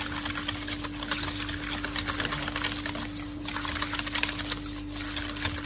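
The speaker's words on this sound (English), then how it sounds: "And then whisk it" Big Mac sauce being whisked in a bowl, a steady rapid clicking and scraping that runs without pause from start to finish, fairly close and alone with no talking.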